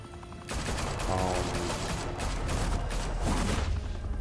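Gunfire in Batman: The Telltale Series: dense, continuous bursts of shots and mechanical clatter fill nearly the whole span after a short quiet lead-in, staying loud and busy throughout.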